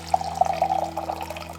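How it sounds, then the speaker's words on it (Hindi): Hot water pours from a homemade Peltier TEC-1 12710 12V hot water dispenser, a steady trickling stream running close and clear for under two seconds over a low electrical hum. "मैं इसके अंदर से पानी निकालता हूँ और आपको चेक कराता हूँ किस तरह पानी इसका निकलता है"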